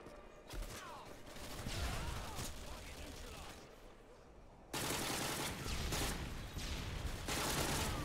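A Steyr AUG rifle fires at a shooting range, sharp repeated shots with echoing tails, a quieter stretch followed by a louder, denser run of reports, with voices talking between them.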